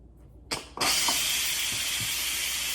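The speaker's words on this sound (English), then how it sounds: "I am going to release the pressure. It lets off a lot of steam" Pressure cooker valve opened to release steam: after a short click and rustle, a sudden loud, steady hiss of escaping steam starts and continues close up.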